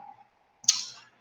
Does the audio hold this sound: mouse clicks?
yes